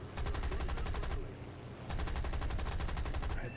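Aircraft machine guns firing in the War Thunder game, heard from the cockpit of a Buffalo or Peashooter fighter: two long, rapid bursts of loud rattling fire separated by a brief pause, over a steady engine drone.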